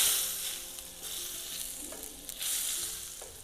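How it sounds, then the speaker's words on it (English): Butter sizzles and fries in a hot cast iron skillet, a steady close crackling hiss with brief louder pops, heard alone without any talk, while steak sandwich fixings are prepared. "you hear that sizzle"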